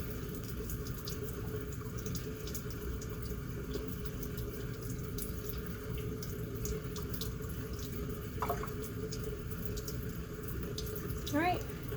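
Hands lathered with soap are scrubbed under a steadily running tap at a sink in a clinical learning lab, fingertips working under the nails, producing a continuous close water rush with small splashes throughout.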